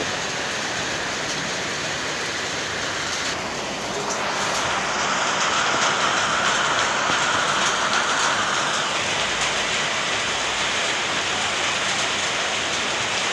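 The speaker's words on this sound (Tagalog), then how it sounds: "Kusog kayo nga rin ang uwan." Heavy rain pours down during an outdoor grilling session, a dense, loud, continuous roar of drops on surfaces that holds steady and swells slightly partway through, with no talk.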